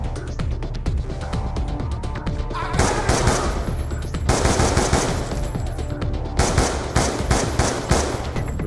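Rapid bursts of automatic weapon fire from the Call of Duty: Black Ops II shooter game, loud and sustained with dense repeated volleys and brief lulls between bursts.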